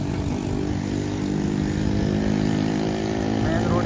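A scooter engine putters and sputters steadily nearby, a continuous rough drone with traffic noise around it.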